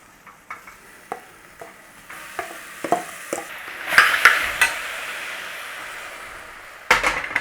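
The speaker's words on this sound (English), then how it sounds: "Start to give your apple a cooking in there." Apple pieces cooking in melted butter in a pan over a low flame, with scattered stirring clinks and soft scraping building into a light sizzle, then a sharper clatter near the end; no voices.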